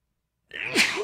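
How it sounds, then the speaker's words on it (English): A single sharp sneeze bursts in after half a second of silence, close and loud, with a breathy tail. "sneezes happen, sneezes happen, right?"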